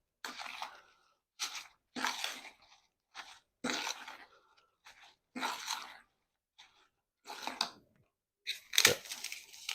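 Crushed meringues folded into cream in a bowl for Eton mess, giving a series of separate crisp crunching scrapes with brief silent gaps between strokes, close and fairly quiet.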